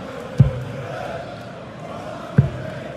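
A darts crowd in Den Bosch at the Dutch Darts Masters keeps up a steady, muffled roar and chant, broken by two sharp thuds.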